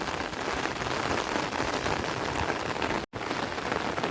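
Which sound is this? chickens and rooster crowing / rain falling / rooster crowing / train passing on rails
rain falling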